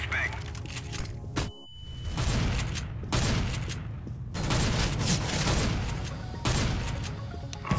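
A Counter-Strike flashbang grenade goes off as a sharp bang among dense, continuous gunfire in an office map, with loud booms and crackling shots layered under players talking.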